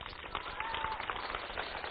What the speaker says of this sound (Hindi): एक बार फिर से अमेठी के लोग अपने लिए जोरदार ताली बजा दें